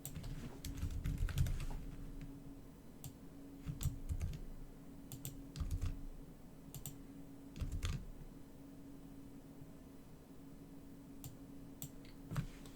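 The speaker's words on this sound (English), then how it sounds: "all I've done, I'm typing it again" Computer keyboard typing in irregular bursts of soft clicks, with pauses between flurries, close and moderately quiet over a steady low hum, no talking.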